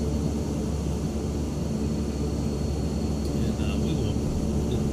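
Steady, droning engine of a Black Square King Air turboprop in a flight simulator, a constant broadband hum with low rumble that holds evenly throughout.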